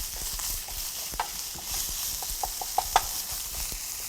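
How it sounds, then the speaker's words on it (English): Ground beef and kimchi are stirred together by hand for rice balls, a soft, steady wet squishing with a few light clicks against the bowl, close and quiet. "So you're mixing that all up together."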